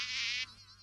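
A cartoon mosquito in Ninja Hattori buzzes in a thin, high, wavering whine, loud for under half a second then trailing off fainter, with no voices.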